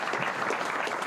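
An audience at a Science Park Update event gives a short round of applause, a continuous patter of many hands clapping at moderate volume for about a second.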